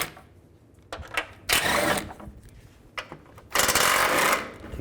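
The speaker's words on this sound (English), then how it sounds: "Take these 4 bolts out." Ratchet with a 15mm socket backing out bolts on the underside shield of a 2000–2013 GMC Yukon, heard as two sustained bursts of fast clicking separated by quieter pauses and a few knocks, close by.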